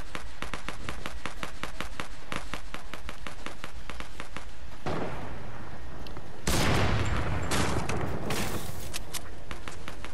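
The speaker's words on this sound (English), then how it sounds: "Tommy gun." Rapid bursts of Tommy gun fire in Fortnite, loud and close, with several rapid strings of shots in the first half, then a denser, noisier stretch of gunfire and impacts toward the end.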